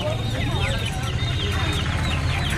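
Local desi chickens clucking at a village market, a dense chorus of overlapping clucks and squawks with a low background murmur of the crowd, steady and fairly loud.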